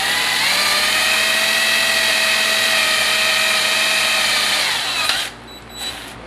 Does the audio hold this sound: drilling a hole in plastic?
yes